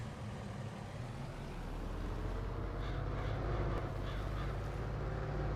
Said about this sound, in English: Here the crows in game.